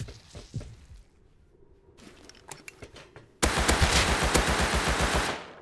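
An AK rifle in the video game Rust fires a long, loud, rapid full-auto burst of close gunshots after a few scattered quieter shots and a short lull.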